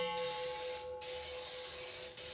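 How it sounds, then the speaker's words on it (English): Cooking spray hisses from an aerosol can onto a pan in a steady close burst lasting about two seconds, with a brief pause partway through and no talking. "always spray your pans"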